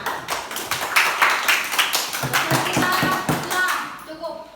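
A school class claps in a burst of quick, uneven slaps that trails off, with children's voices chattering underneath.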